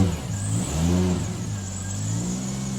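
A Toyota Supra Mk4 with a 2JZ engine, running a tune not set up for cold starts, fires up and revs, the engine note climbing and falling in a couple of loud, close surges before settling into a rough idle.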